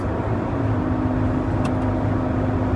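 A 1993 Honda Del Sol SI cruises at 60 mph in overdrive near 3,000 RPM, a steady, loud cabin drone of engine hum and road rumble with no break.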